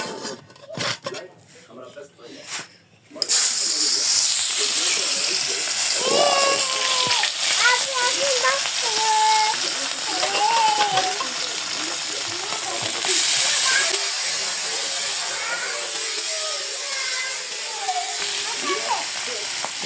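Hot oil in a pan bursts into loud, continuous hissing and sizzling as a Bengali fish goes in, the sputtering filling the scene with people talking over it.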